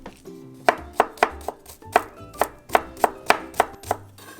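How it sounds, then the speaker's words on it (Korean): Knife finely mincing garlic on a cutting board for a spicy Korean one-bowl dish, a steady run of about a dozen sharp, close chops in quick rhythm, with no talking. "마늘은 잘게 다져주시고요"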